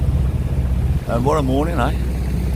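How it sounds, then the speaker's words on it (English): A sailing catamaran motor-sailing with its jib out and engine running toward Mousehole gives a continuous low chugging drone, with wind buffeting the microphone, while someone speaks briefly over it. "So I've got the Jenny out and I've got the engine on, and I'm quite happy to chug around to Mousehole like this."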